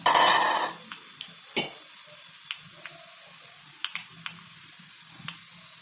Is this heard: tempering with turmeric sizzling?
yes